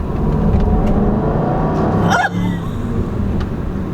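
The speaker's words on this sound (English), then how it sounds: "this does have a supercharged V8" Range Rover with a supercharged V8 rumbles loudly nearby at a steady, heavy idle-to-rev drone, with a brief dip midway as the throttle changes, and no clear talking over it.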